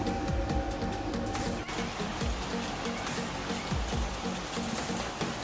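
Heavy, steady rain falls during a long downpour that has caused flooding, a dense wash of patter with a few louder splashes and knocks mixed in.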